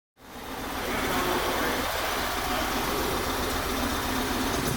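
A 2008 Yamaha Roadliner Midnight motorcycle engine starts up and runs steadily, a loud, close, continuous rumble holding a constant level after the sudden onset.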